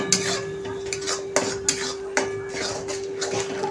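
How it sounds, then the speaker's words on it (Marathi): Egg bhurji being mixed with salt in a pan, with sharp metallic clanks and scrapes of a spatula striking the pan in quick irregular strokes over a steady background hum. "चवीनुसार मीठ टाकल्यावर आपण ह्याला छान असं मिक्स करून घ्यायचं आहे।"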